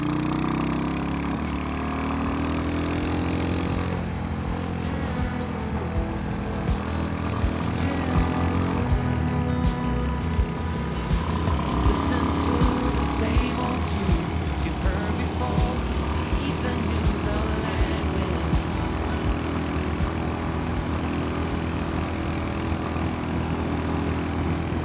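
A Royal Enfield Hunter 350 motorbike rides along country roads in autumn, its engine a steady, close drone mixed with rushing wind noise that holds for the whole stretch without pause.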